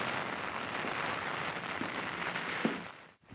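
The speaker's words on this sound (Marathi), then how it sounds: "आता पावसाचा जोर पुन्हा वाढायला लागलेला आहे" Steady, dense monsoon rain hiss pours down continuously in Maharashtra, a few sharper drips or taps standing out before it drops away at the end.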